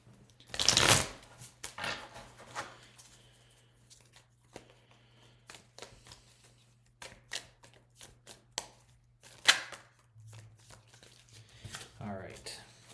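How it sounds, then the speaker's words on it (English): A deck of tarot cards being shuffled by hand, a loud riffling burst at the start followed by scattered softer shuffles and taps alongside a low steady hum. "Let's do another proper shuffle."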